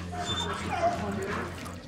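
Search dogs are working a prison wing, with short dog whimpers and yips heard close by over a continuous low hum and general room noise.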